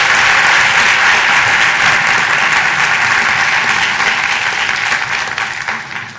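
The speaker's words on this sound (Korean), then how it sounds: "송 교수님한테 박수 한번 주시죠" A lecture audience applauds Professor Song, who is introducing Samsung Electronics president Hwang Chang-gyu: a dense, steady wash of many hands clapping that fades slightly toward the end, with no voices over it.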